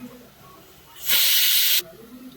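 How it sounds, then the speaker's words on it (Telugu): Turmeric, chili, coriander powder, garam masala and salt frying in a pan for Orissa-style guguni: a single loud hissing sizzle bursts up for under a second against a quiet background. "ఇప్పుడు దీన్ని శుభ్రంగా వేయించుకోండి."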